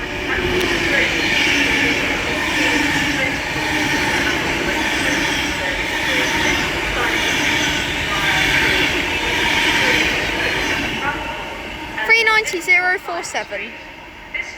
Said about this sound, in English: Avanti West Coast Class 390 Pendolino from Edinburgh Waverley